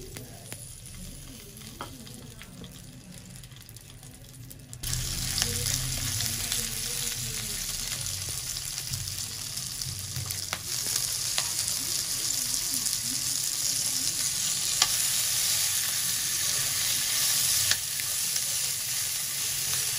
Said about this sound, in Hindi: तेल गरम हो गया। ये हमारे पास मिर्चें हैं, ये हम डाल देंगे।